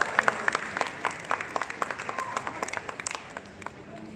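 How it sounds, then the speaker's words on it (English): Guests at the Philippine National Day Ball give a round of applause, the clapping moderately distant and steady for several seconds, thinning out toward the end. "I think that deserves a big round of applause"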